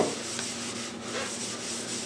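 A cloth is rubbed back and forth over a wooden bottom shelf for a Husky 27-inch tool cabinet, wiping off wood stain, giving a close, steady scuffing rub with no pauses.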